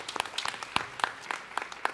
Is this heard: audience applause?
yes